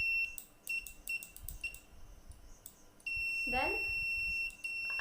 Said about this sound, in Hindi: I will push it, the buzzer will ring.